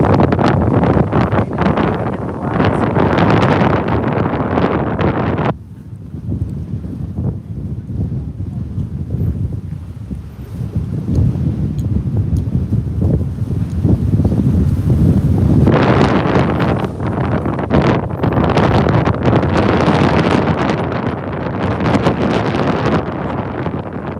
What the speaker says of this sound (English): It's hard to hear me, I bet, because of the wind.